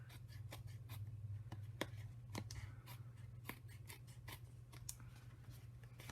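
Scissors trimming excess card stock for a tag: a series of crisp, quiet snips at irregular intervals over a low steady hum, close and faint, with no talking.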